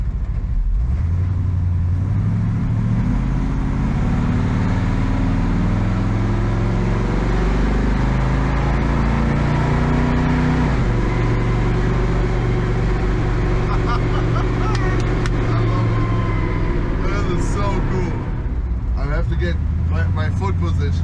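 The world's largest off-road wrecker truck drives with a loud, deep engine drone that rises and shifts through gears, while someone talks over it.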